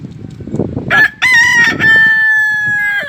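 A rooster crows loudly and close by, one long drawn-out call rising over soft background clucking and rustling.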